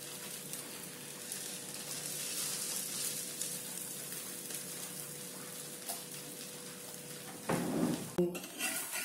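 A dosa fries on a pan with a steady, soft sizzle at close range, ending in a few clattering scrapes of a utensil against the pan.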